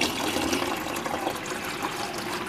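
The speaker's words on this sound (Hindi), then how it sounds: "तो भाई मैं इसे पहले 2-3 बोतल और डाल देता हूँ।" Water being poured from bottles into a container, a continuous close splashing and gushing pour with fluctuating intensity throughout and no talking.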